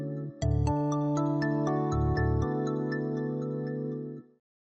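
An Alcatel-Lucent M7S Pro desk phone rings with a bright electronic melody of repeating tonal notes, loud and close, receiving a forwarded call, then cuts off abruptly near the end.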